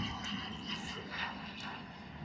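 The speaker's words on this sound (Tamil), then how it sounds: "ஃப்ளைட்டு பாருங்க எப்படி மேகத்துக்குள்ளேருந்து எப்படி வருதுண்டு" An airplane flying low overhead near Thoothukudi airport, a steady broad engine roar heard from the ground, moderately faint and continuous.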